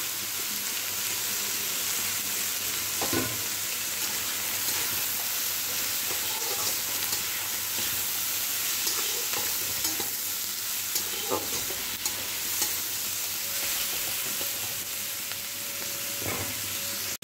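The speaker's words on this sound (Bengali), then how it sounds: "বেশি পুড়িয়ে মশলাটা ভাজবো না" Masala frying in a pan for chowmein in a home kitchen gives a steady, close sizzle throughout, broken by a few soft clicks and scrapes of stirring, with no talking.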